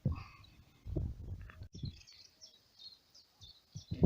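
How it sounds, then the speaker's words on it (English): Birds chirp and trill in high, quick bursts, fairly faint, over low rustling and thumping noises nearby. "Birds are going nuts."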